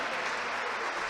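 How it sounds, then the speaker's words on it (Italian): Brief applause from a small audience of staff and officials at a women's Serie A futsal match between Città di Falconara and Città di Capena, a steady patter of clapping heard alone for about a second. "gli applausi belli anche quelli del poco pubblico presente"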